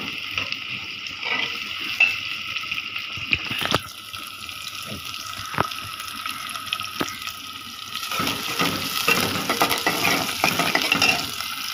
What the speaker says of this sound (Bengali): তেলটা গরম হয়ে গেছে, এখানে পেঁয়াজ আর রসুন দিয়ে দিব